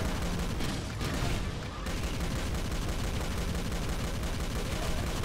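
Enemies shooting at the player in Doom: dense, continuous gunfire and explosive bursts, loud and sustained throughout with no talk.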